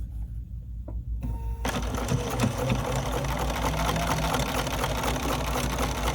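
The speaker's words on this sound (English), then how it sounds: "we're going to sew it along that edge right there" A sewing machine starts up and runs steadily, stitching fabric pieces together for quilt block ten, with a loud, continuous mechanical hum up close.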